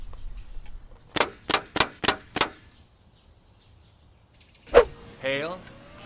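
Five sharp, cracking impacts in quick, even succession, then a pause, another hard hit, and a brief high-pitched squeal, as an ice cannon fires ice balls at a solar panel.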